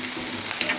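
Onions and finely grated ginger sautéing in a pan for a coconut, raw mango and pea sundal, a steady close sizzle with light stirring scrapes.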